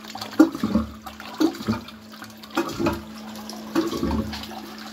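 A Qualitas Versailles close-coupled toilet from around 2002 is flushed, giving a rushing, gurgling swirl of water with a steady cistern refill hiss underneath, heard up close in a quiet bathroom.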